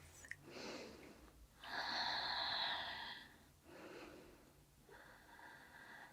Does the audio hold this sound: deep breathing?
yes